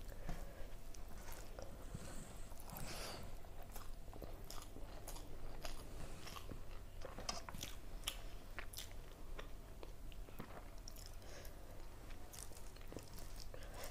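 Broken-rice meal with mashed potato and egg being chewed close up, soft crunchy bites and wet mastication repeating steadily for the whole stretch with no talk.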